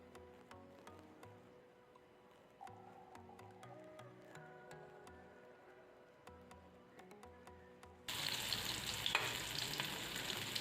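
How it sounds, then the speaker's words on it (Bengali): Amudi fish fry in hot oil; a soft, tonal background fades into a sudden loud, steady sizzle over the last few seconds, with no voices. "এবার এই মাছগুলোকে একটু ভালোভাবে ভেজে তুলে নিচ্ছি"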